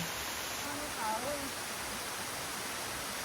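A waterfall by a river in a campsite setting gives a steady, broad rush of falling water that fills the scene evenly throughout, with a faint high tone briefly over it at the start.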